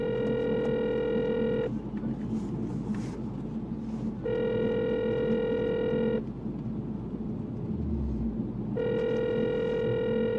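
A telephone ringback tone heard while placing a call: three long harmonic tone bursts separated by pauses, steady and fairly loud over a low background hum.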